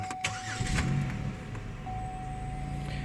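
A Pontiac Grand Prix that had trouble starting without throttle cranks briefly and catches, its engine settling into a steady, close idle with a faint whine running beneath.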